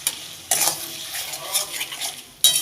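Spice masala stirred and scraped in a pan while cooking for an egg and potato kosha, with intermittent bursts of utensil scraping over a low continuous sizzle, close and moderately loud.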